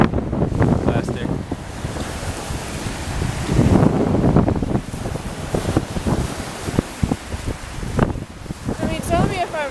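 Strong wind buffets the microphone at a lake beach while waves wash in, a continuous loud rush with gusts and splashes, and a voice is faintly present at times.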